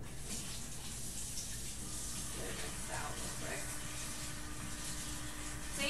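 A small cup is rinsed under a running tap, giving a steady, close wash of flowing water that continues unbroken while light indistinct movement sounds come and go.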